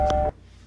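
A phone emits a short electronic tone burst, one clear beep lasting about a third of a second, during a Five Nights at Freddy's AR Special Delivery mobile game session, then cuts to near silence.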